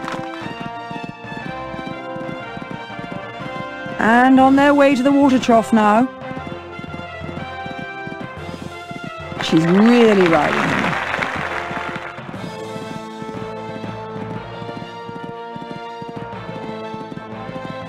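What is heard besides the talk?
horse galloping in Equestriad 2001 video game cross-country event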